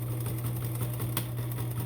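A sewing machine runs steadily, stitching back and forth across a strip of fabric being made into cord, a continuous close hum with a faint rhythmic chatter and no talk.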